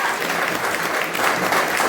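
A crowd at a devotional music gathering claps in dense, sustained applause, loud and continuous throughout without any break.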